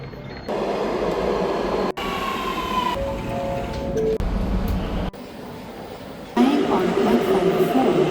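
At Mount Kuring-gai station in Sydney, a suburban train makes a steady rumble, with tonal squeals and hums from its motors and brakes and abrupt cuts between segments, as people talk over it.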